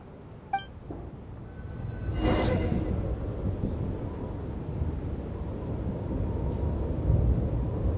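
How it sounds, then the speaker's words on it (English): Thunderstorm in the video game Genshin Impact, set in Snezhnaya: a rumbling sweep of thunder rolls in after a brief sharp click, leaving a steady broad storm roar with wind that persists throughout, loud and close. "What is going on with this storm?"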